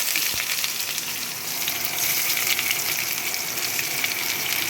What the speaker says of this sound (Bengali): এবার আমি পেঁয়াজগুলো তেলের মধ্যে দিয়ে দিচ্ছি।